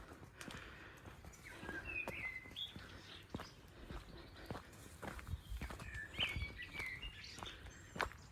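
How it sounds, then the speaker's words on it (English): Birds chirp and sing in short bright phrases around a sunny golf course garden, under steady nearby footsteps of someone walking along. "Can you hear the birds?"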